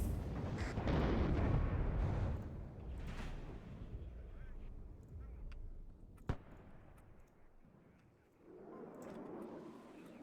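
Heavy explosions and booming artillery from the Cold War strategy game Warno, a loud rumbling blast up front followed by a lingering low roar, a sharp crack midway, and another muffled detonation near the end.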